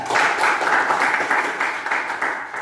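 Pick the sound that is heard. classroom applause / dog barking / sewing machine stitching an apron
classroom applause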